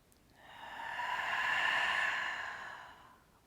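A single slow, deep exhale during a restorative foam roller relaxation exercise, a soft breathy rush that swells and fades over about three seconds, close and quiet, with no talking.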